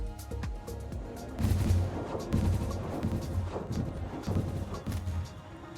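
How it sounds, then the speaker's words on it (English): Hyper cannons in the video game Satisfactory fire in a dense run of booming thuds and sharp cracks over a steady low rumble, loud and close throughout. "But then I'm using hyper cannons to get around."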